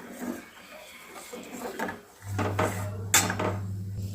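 Carrot paste being stirred into hot milk in a wok, faint scraping and light clinking of the utensil against the pan with a steady low hum underneath.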